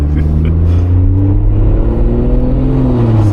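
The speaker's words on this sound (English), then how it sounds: "how insane this exhaust sounds" Loud, steady engine and exhaust drone from a BMW 440i with a 330 hp engine, heard from inside the car as it accelerates. The tone climbs smoothly and stays dense throughout, with no talking.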